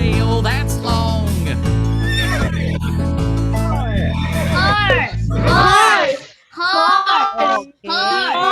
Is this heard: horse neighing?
yes